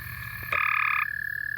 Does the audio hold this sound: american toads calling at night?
yes